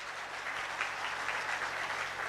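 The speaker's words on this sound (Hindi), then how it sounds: "एक बार तालियों के साथ स्वागत करें।" Steady applause from an audience at a political election gathering welcoming guests, faint and distant, a dense continuous patter of clapping with no voices.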